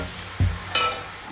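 A spoon stirs risotto in a hot pan, two distinct scraping strokes over a soft continuous sizzle, close up with no talking.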